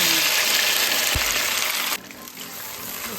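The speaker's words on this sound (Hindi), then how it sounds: "सॉटे करना है इनको 3 से 4 मिनट के लिए" Ingredients sauté in hot oil over a high flame in a home kitchen, producing a loud, dense frying hiss that drops in intensity partway through, with a brief low thump. No one speaks.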